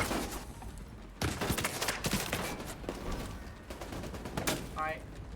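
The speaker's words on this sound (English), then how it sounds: "I'm getting shot at." Incoming gunfire aimed at the player in the shooter The Division 2, heard as scattered sharp cracks and short bursts at moderate volume over a busy game soundscape.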